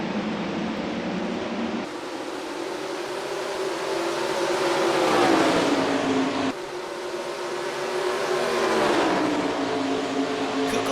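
In NASCAR Racing 2003 at Watkins Glen, the engines of a pack of race cars rise and fall as they accelerate through the gears at the green flag, a continuous loud roar with no commentary.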